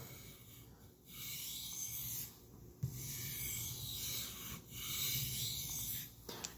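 A knife is stroked back and forth across a 1000-grit whetstone in steady, close rasping passes, each run of grinding broken by brief pauses, with no talk over it.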